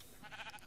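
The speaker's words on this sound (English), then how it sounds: "That sheep is loud." A sheep bleats once in the video game Minecraft, a short, loud and close wavering cry of under a second, heard alone with no talking.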